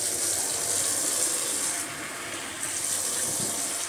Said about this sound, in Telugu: నీళ్ళని శుభ్రంగా రొయ్యల్లోంచి పిండేసుకోవాలి శుభ్రంగా